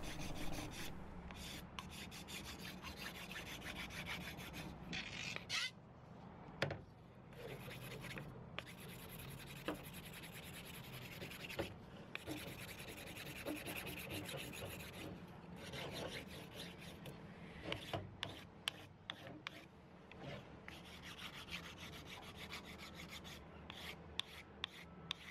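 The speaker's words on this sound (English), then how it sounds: "So I continued the sanding process until the whole thing was as smoothed out as possible." Continuous abrasive rubbing of sandpaper on a carbon fiber sword blade and its edges, steady rasping strokes with brief pauses, close and fairly loud throughout, no talk.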